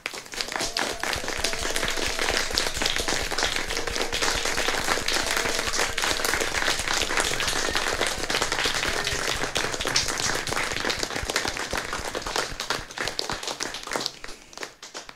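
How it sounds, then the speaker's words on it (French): Sustained applause from people clapping for healthcare workers at 9 pm, steady and dense for about fourteen seconds before fading at the end, with no talking over it. "nous applaudissons nos soignantes, nos soignants"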